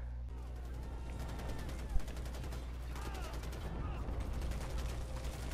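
Gunfire in the video game Far Cry 4, with a sustained burst of shots and a sharp crack near two seconds, heard under steady game music and background noise.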